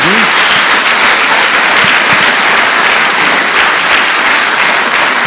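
A church congregation claps in praise, a loud, continuous wash of applause that does not let up for its full length.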